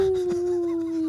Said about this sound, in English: You can still hear the howls when you look at the moon.